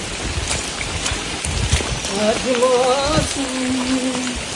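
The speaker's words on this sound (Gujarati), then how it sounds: "વરસાદ તો ચાલુ જ છે" Steady rain falling on surfaces at Polo Forest, Vijaynagar, a dense constant patter, with a person talking over it partway through.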